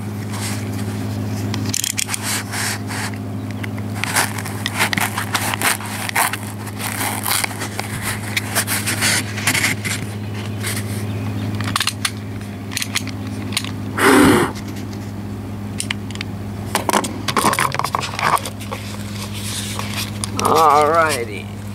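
Nidacore honeycomb core panel is cut for a deck locker closet with a steady, rough scraping and crunching that runs the whole time at close range, with a few louder bursts near the end.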